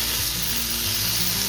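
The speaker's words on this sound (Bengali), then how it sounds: "এখানে হচ্ছে আলু ভাজা" Potatoes fry in a pan on a home stove, a steady, close sizzle and crackle of hot oil that runs unbroken at an even level.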